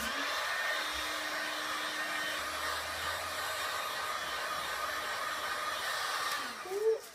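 A heat gun blows a steady, even rush of hot air over a Worbla armour piece, running alone without pause until a brief louder surge just before it stops.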